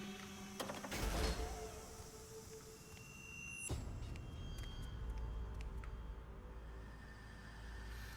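Unbolting in the video game Saw II: Flesh & Blood: a sharp mechanical clank and metallic rattle, followed by a lower grinding whir and softer clicks, heard close against a steady ambient hum.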